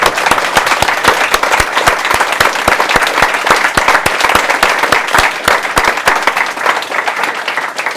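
Close, loud applause from a small audience at a literary café gathering honouring two readers, with sharp individual claps standing out over a steady bed of clapping.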